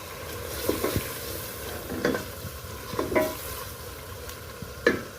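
Beaten yogurt being stirred into a pot of masoor dal biryani base, with a few soft scraping stirs spaced across the moment and a faint sizzle underneath, close and fairly quiet.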